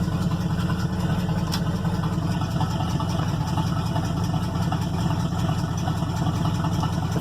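A 1997 Jeep Grand Cherokee with a worn-out motor idles steadily and smoothly, a loud close rumble with an even low throb and no change in revs throughout.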